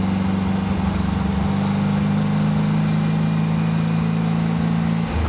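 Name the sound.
1948 Porsche 356 Speedster replica engine while driving in third gear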